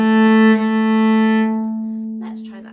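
Cello arpeggio in a beginner lesson, rising from D to open A: a sustained, rich bowed tone with strong harmonics that swells then fades, with a brief voice entering near the end.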